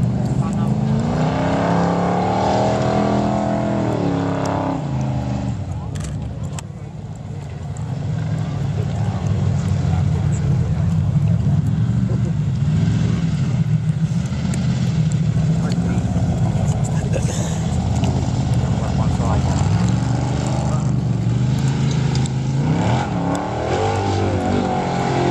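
An off-road car with a roughly 7.6-litre V8 engine climbs a slope, its loud, steady engine roar rising and falling with throttle throughout, with a brief dip in the middle and someone talking over it.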